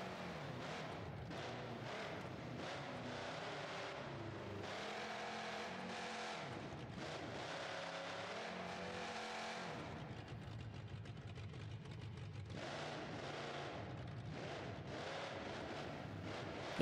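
In the video game BeamNG.Drive, a monster truck's Ford engine with headers roars continuously and loudly, rising and falling with throttle changes. A brief dip comes midway before the engine builds again.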